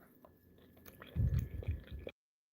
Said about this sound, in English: Hold on, y'all. I'm chewing.